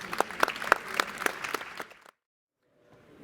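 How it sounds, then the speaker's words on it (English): Audience clapping at a climate resilience panel session, a brief burst of distinct claps that fades quickly and stops, leaving near silence. "And a big applause"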